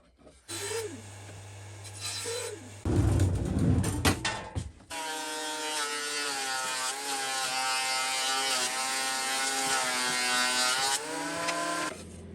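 A thickness planer machines plywood pieces, with a loud motor hum and a whining cutterhead that bites harder as a board feeds through and then runs steadily for several seconds, alone and close by.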